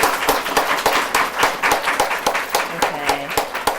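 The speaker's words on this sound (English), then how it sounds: "Let's have another round of applause for our brave students." An audience claps for students at a graduation ceremony, dense steady applause close and loud throughout, with faint voices mixed in.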